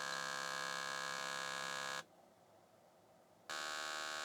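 An IBM PC's internal speaker, with the CPU slowed to about 400 kHz, emits a harsh buzzing beep that sounds for two seconds, cuts to near silence, then resumes at the end.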